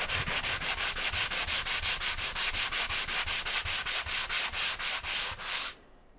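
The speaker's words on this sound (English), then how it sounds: "should work out okay with a dry sander, just a bit of elbow grease" Drywall dry-sanded by hand with a sanding block, a close, loud, rhythmic back-and-forth rasp of about two strokes per second that stops abruptly near the end, with no one speaking.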